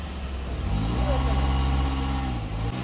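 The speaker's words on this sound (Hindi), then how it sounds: "टायर घुमाई जा रही है" A stuck Suzuki Cultus spins its tyre on a rain-soaked desert track at night, the engine revving steadily for a few seconds under voices nearby.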